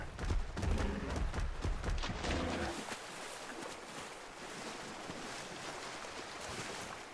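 Waterfall water in ARK Survival Evolved on the Ragnarok map rushes in a dense, broad roar, loudest at first, then settling into a steady softer wash.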